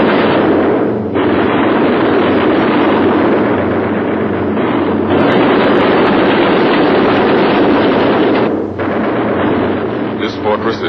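Dense, continuous roar of heavy flak bursts and rumbling engine noise around a damaged B-17 Flying Fortress bomber with an engine on fire, loud and unbroken, with a few sharper swells and no clear talk.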